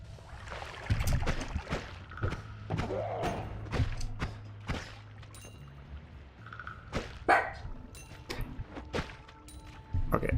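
A dog barks in short, irregular bursts indoors, close and moderately loud, mixed with clattering household noise and a low steady hum in the background.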